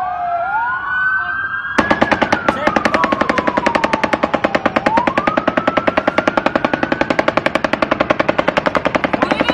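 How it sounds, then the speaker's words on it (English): Rapid, continuous bursts of machine gun fire from the Las Vegas Mandalay Bay shooting hammer away in a fast steady rhythm, loud and close, while a wailing siren rises and falls underneath. "That's a machine gun they're shooting right now."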